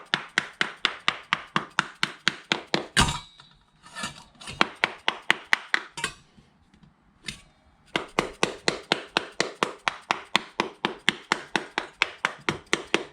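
Rapid, rhythmic metallic knocking of a hammer on the motor cover of a Bosch Performance Line CX e-bike motor, dozens of sharp blows in quick succession with a short pause of scattered taps midway.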